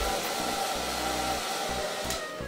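A hair dryer on medium heat blows hair dry over a round brush, a loud continuous close whoosh with an uneven low rumble as the airflow shifts against the brush and hair.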